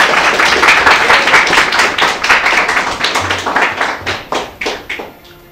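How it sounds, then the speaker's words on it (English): Audience applauds a student walking up to the podium at a college open evening, loud and dense clapping that thins into scattered claps and fades out near the end. "So give him a round of applause as he takes the podium."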